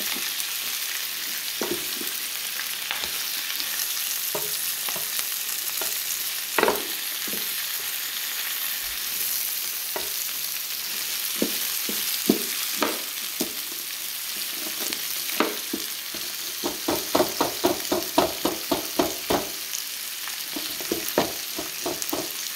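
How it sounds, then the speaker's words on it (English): Cabbage and onions frying together in a pan for canned corned beef and cabbage, a dense continuous sizzle with scattered stirring clicks that turn into a quick run of scrapes near the end, close and without talking. "Cabbage and the onions together now."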